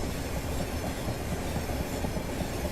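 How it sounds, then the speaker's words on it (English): Class 465 electric train in Train Simulator 2018 passing close by, a loud rumbling rush with rhythmic clickety-clack of wheels over rail joints, continuous throughout. "We have a 465 passing us here"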